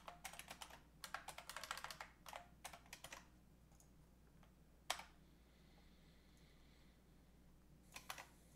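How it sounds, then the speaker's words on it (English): Quiet typing on a computer keyboard comes in quick bursts of clicking keystrokes, with pauses between runs and one sharper key tap, in a hushed room with no talking. "Keyboard."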